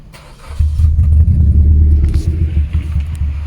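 A misfiring car engine with a popping exhaust cranks and catches after a brief pause, then settles into a loud, low idle rumble close by.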